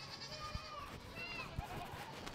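Goats on a farm bleat near a fence, wavering calls heard up close over an outdoor background, with a couple of soft thumps mixed in.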